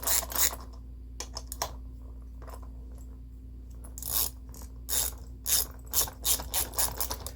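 A hand ratchet clicks in quick bursts while tightening bolts on the impeller housing of a 1999 Mercruiser 454 L29 marine engine, close up, with short pauses between runs of rapid pawl clicks.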